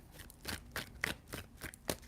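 Tarot cards shuffled in a steady series of soft, crisp slaps and riffles, about two or three per second, close and quiet with no talking.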